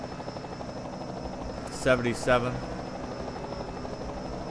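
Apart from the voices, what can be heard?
helicopter in racing video game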